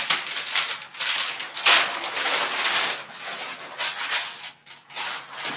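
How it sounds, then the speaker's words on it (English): Scissors cut fabric for the back piece of a playsuit pattern, a dense run of close, crisp snipping and rustling with brief pauses. "So now I'll go ahead and also cut the back."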